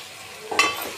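Mutton pieces drop into a hot pan for frying, and a sudden sizzle bursts up halfway through before settling into a steady crackle.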